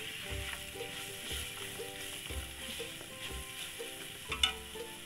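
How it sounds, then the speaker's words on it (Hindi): Finely chopped onions hiss and sizzle steadily in hot oil in a frying pan during samosa filling preparation, a close continuous crackle with a small stirring clatter near the end, over a faint background hum. "अब हम इसके अंदर प्याज डाल देंगे। बारीक कटी हुई प्याज डालेंगे।"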